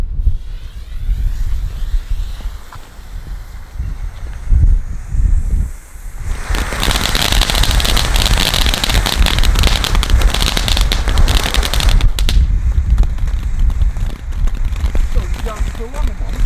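Fountain fireworks going off outdoors at night, a loud continuous crackling hiss that bursts in and runs for several seconds amid wind noise, with people talking.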